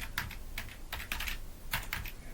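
Fingers tap out a quick burst of keystrokes on a computer keyboard, light clicky presses in uneven clusters, close but soft, with no one speaking.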